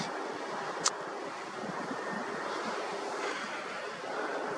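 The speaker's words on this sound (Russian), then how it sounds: "О, ну это уже ветер камеру трясет." Steady wind buffeting a camera set up outdoors for night-sky astrophotography, a continuous broadband rumble and hiss with a single brief click near the start.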